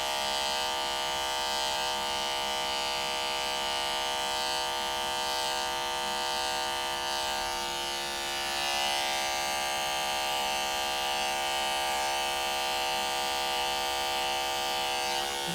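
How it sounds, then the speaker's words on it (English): Electric hair clipper running steadily on light-colored straight hair during a fade and blend, a continuous close buzzing hum with harmonic whine, no talking. "I'm going to take the clipper and I'm going to come at a different angle"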